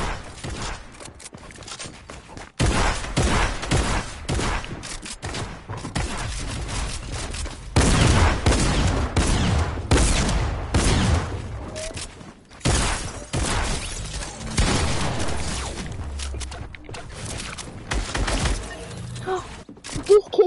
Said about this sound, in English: He was shooting out the window and I was beside him and he killed me